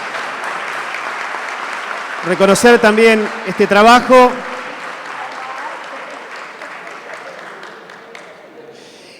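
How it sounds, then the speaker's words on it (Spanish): An audience at a provincial conference for economics professionals breaks into steady, fairly close applause for a speaker, starting under a voice at a podium and fading into room murmur. "El aplauso de todos ustedes para"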